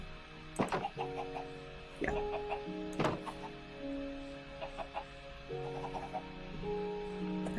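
Chickens cluck in short bursts in Minecraft over steady electronic game tones, with a brief spoken word partway through.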